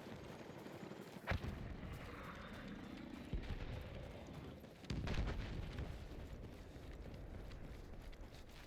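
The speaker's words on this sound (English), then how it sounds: "Those are automated cannons." Automated cannons firing in a multiplayer shooter video game, two sharp booming blasts with a rumbling tail over a continuous low game soundscape, one near the start and a heavier one midway.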